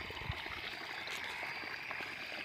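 Irrigation water flows steadily into a sugarcane field, a continuous, even trickling and gurgling stream that stays close and fairly quiet throughout, with no talking.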